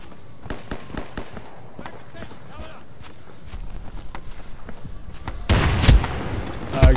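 Gunfire in the tactical shooter Insurgency, a string of sharp shots and clattering footsteps, then a louder close burst of firing near the end.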